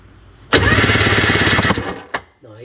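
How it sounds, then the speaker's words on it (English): A Sea-Doo SP jet ski engine is cranked on the starter button in one loud, steady burst of about a second and a half. It stops abruptly, followed by a brief knock and a short spoken word. "Which button do you push? The starter button."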